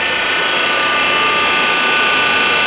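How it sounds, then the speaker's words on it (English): A steam extractor sucking smoke away from a wood-burning turbine stove gives a constant loud rushing, whining drone with a steady high tonal hum and no pauses. "We've got a steam extractor sucking up the smoke."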